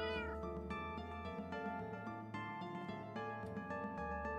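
A video-game cat meows several times in a row, each call a quiet, tonal cry, with no voices over it.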